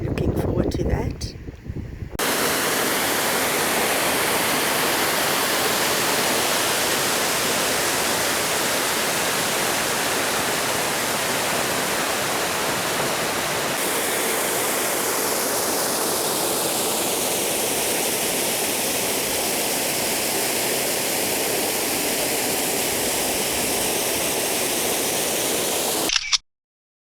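A river on a nature conservancy farm rushes as a loud, steady broadband roar of flowing water that runs unbroken for nearly half a minute, then cuts off abruptly.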